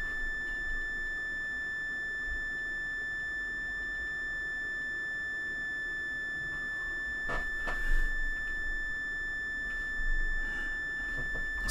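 Moog Grandmother synthesizer oscillator holding a steady, pure sustained tone with harmonics, its pitch wavering slightly as the tuning dial is turned, accompanied by a few soft knocks and handling clicks.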